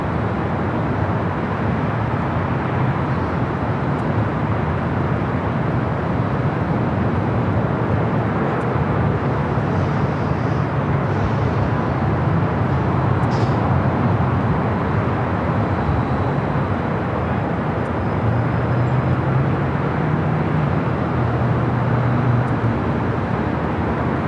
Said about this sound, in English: LAX takeoff here on the north side. A Southwest flight heading to Vegas. Flight 1662, 737-800.